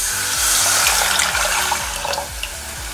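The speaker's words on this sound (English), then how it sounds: "Add your 2 cups of water to the pot and bring it to a boil." Water pours steadily from a tap into a non-stick pot, making a loud, continuous splashing rush with a rising gurgle as the pot fills. No one speaks.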